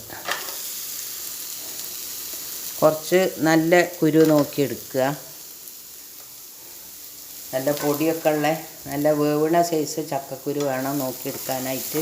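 Washed jackfruit seeds frying in a pan make a steady sizzle and crackle running beneath a voice talking in bursts, close and continuous.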